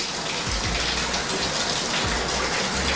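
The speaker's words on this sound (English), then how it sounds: "So we'll run that for a second to make sure that there's hot water." Hot water runs steadily from a sink faucet during a home inspection, a continuous gushing splash with no talk.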